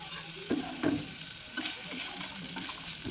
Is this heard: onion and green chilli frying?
yes